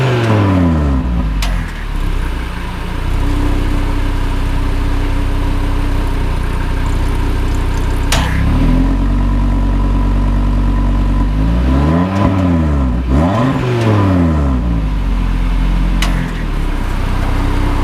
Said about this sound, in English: just give it a bit of a rev